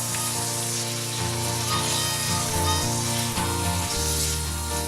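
Garlic sizzling in a pan beside smoked sausage for a cheesy pasta, a steady dense hiss at constant level throughout with low tonal hum beneath and no talking.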